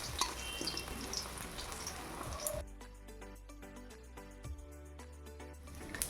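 Coriander leaf fritters frying in oil in a home kitchen pan, a loud close sizzle at first that drops to a quieter crackle with scattered small clicks and pops.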